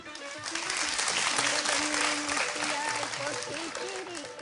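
Audience applause at a junior dance competition stage show, steady clapping filling the room throughout with a host's voice talking over it.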